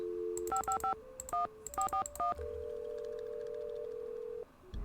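A telephone in a Nancy Drew mystery game is dialed, with quick clusters of electronic touch-tone beeps in irregular bursts, followed by a long steady tone, clean and close with no talking.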